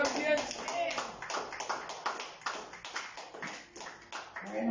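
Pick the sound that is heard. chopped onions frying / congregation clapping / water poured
congregation clapping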